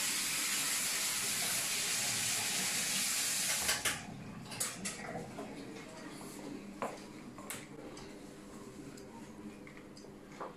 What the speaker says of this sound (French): On va rincer les fouets.